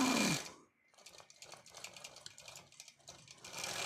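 Sewing machine free-motion quilting a quilt top, a steady stretch of rapid needle stitching that runs near and moderately loud with small pauses and uneven bursts, coming after a brief start.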